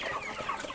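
Pet chickens clucking nearby in short soft bursts against a busy background, brief and close.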